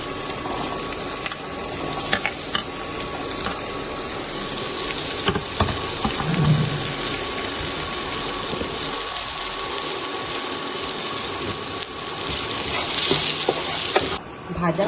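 Cauliflower pieces fry in a pan for homemade fried rice, a continuous bubbling sizzle with occasional clinks and stirring noises, steady and fairly loud throughout with no clear speech.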